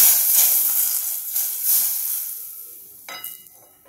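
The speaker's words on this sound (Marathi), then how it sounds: "आता तुमच्या समोरच मी या भाजीवर ही फोडणी टाकते" Hot tempering poured over a cooked red-colored potato and paneer vegetable dish bursts into a loud sizzle that slowly fades, with a brief fresh flare of hissing near the end.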